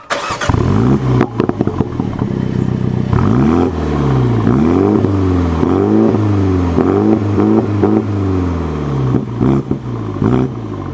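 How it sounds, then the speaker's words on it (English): A powerful MINI JCW GP3 engine with 306 hp cranks and catches, then revs up and down several times in loud, rhythmic bursts close by. "So that's how the car sounds when you start it up"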